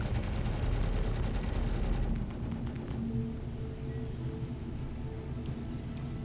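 Rapid automatic weapon fire aimed at sentry turrets in the space game Star Citizen, a dense, loud rattling burst for about two seconds, followed by a lower rumbling hum with faint tonal beeps.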